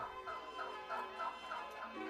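Turkeys and chickens on a poultry farm, heard as a steady chorus of gobbling and clucking in rhythmic bursts about every third of a second, moderately close and with no talk.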